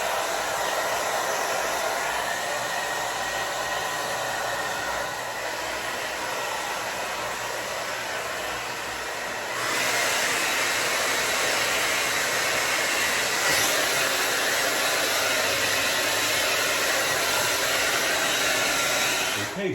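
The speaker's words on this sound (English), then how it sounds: "You're gonna use a hair dryer." A hair dryer runs steadily and close for about twenty seconds while drying hair, a constant airy roar with a slight step up in intensity partway through, no voices.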